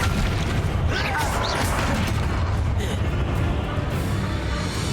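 A Confringo blasting spell explodes in Hogwarts Legacy, a heavy booming burst with a rumbling low tail and crackling debris, loud and close amid game effects.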